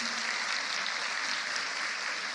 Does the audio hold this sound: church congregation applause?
yes